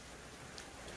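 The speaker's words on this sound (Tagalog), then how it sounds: "Timing umuulan." Soft, steady rain patters as a faint, even hiss, with no voices.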